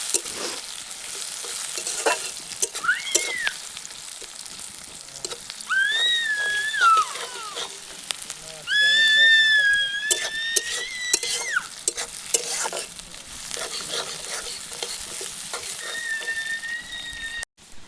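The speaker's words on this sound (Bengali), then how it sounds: "এই যে পেঁয়াজ ভাজা হচ্ছে।" Onions frying in a pan outdoors in a field for a village-style chicken kosha, a steady sizzle with stirring scrapes, while high whistling bird calls chirp intermittently over it throughout.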